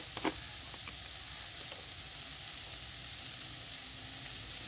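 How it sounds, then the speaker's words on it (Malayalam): Soya ball masala being stirred in a hot pan, a steady sizzling fry with a couple of faint utensil scrapes near the start. "നമുക്ക് നന്നായി ഇളക്കാം."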